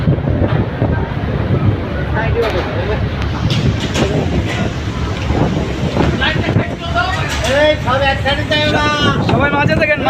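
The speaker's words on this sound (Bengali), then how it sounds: "তুফান শুরু হয়েছে" A Kalbaishakhi storm sweeps over the MV Sundarban 16 passenger ship in the middle of the Padma river: roaring gusts buffet the microphone over the vessel's low rumble, while voices talk and call out nearby.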